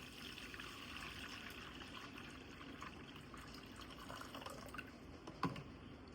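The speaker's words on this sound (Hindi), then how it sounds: "ये बेटा आबे ज़मज़म इधर डाल दिया" Zamzam water poured into a container at home, a faint steady liquid trickle and splash running throughout with a small clink near the end, no voices.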